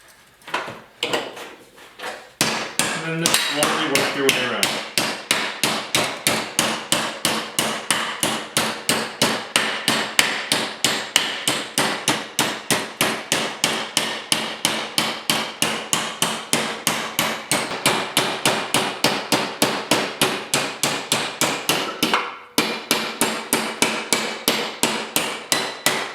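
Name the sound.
hammering a steel patch panel on a 1939 Chevy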